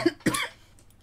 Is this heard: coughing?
yes